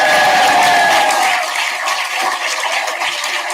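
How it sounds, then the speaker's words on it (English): Conference audience at the PJP International Conference cheers and applauds loudly, a dense burst of clapping and whoops close by that eases slightly but keeps going throughout. "Give a cheer to all the online people."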